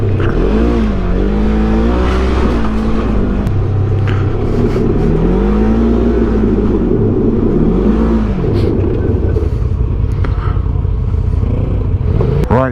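A 180hp Polaris RZR Turbo R side-by-side revs hard while drifting off-road, its loud engine note rising and falling in repeated sweeping surges with a constant rumble beneath.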